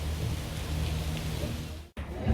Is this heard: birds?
no